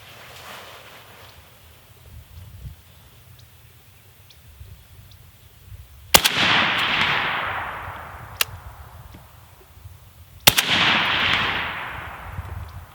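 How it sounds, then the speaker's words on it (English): Two sharp gunshots at casual shooting practice outdoors, spaced about four seconds apart, each followed by a long rolling echo over a quiet background, with a faint distant pop between them. "I'm going back to shooting"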